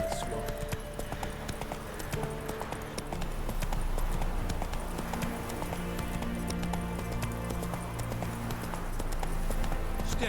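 Roach the horse gallops through The Witcher 3 video game, a steady rhythmic clip-clop of hooves running beneath a dense backdrop of battle ambience and music, loud and continuous throughout.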